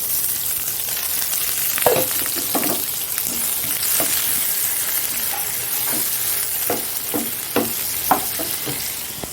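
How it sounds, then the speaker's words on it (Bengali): Nigella seeds, green chillies and onion fry in hot oil with a continuous crackling sizzle, broken by scattered sharp spatters and light utensil clinks, close by and with no talking. "এখানে কালো জিরে দিয়ে দিচ্ছি আর এখানে কাঁচা লঙ্কা আর পেঁয়াজ দিয়ে দিলাম"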